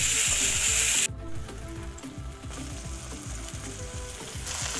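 Crushed garam masala and bay leaves sizzling in hot oil for green pea kachori filling, a bright loud hiss that drops abruptly to a softer crackle under rhythmic low thumps, close by with no voices.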